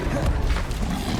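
A burst of fiery spell-casting in Hogwarts Legacy, with the Incendio fire spell producing a dense, roaring whoosh and crackle that fills the moment at steady loudness, close and forceful.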